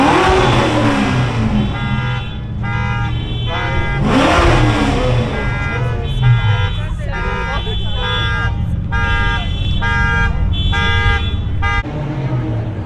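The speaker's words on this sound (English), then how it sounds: "My boy's setting alarms on." A car alarm blares at an evening car meet, repeating loud electronic siren patterns and chirps over idling and revving engines, with people talking nearby.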